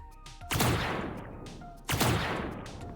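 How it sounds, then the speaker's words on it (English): Wooden crates exploding when shot in a video game, two loud sharp blasts about a second and a half apart, each followed by a crackling, splintering decay, preceded by faint gunshot clicks. "So see my crates, and now if I shoot them, they should explode."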